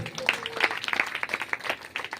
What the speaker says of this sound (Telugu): చప్పట్లు కొట్టండి ఒకసారి